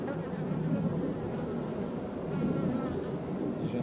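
Honeybees in a crowded hive full of brood, a dense, steady droning hum with slight swells in loudness, heard up close without any speech.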